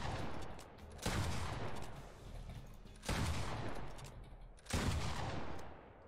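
Three loud, booming shotgun blasts from a pump-action shotgun in a Minecraft-style lucky block race video game, each spaced about two seconds apart with long decaying tails and no talking.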